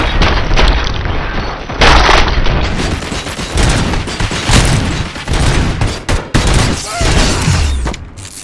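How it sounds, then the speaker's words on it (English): Loud, sustained gunfire and booming blasts fill a combat scene in the video game RoboCop: Rogue City, with dense overlapping shots and brief dips in the barrage. "Fire at will."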